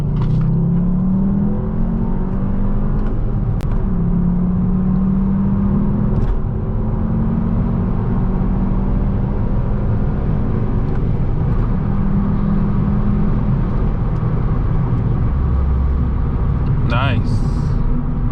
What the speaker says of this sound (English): we're gonna get on the highway here and see what this 210 horsepower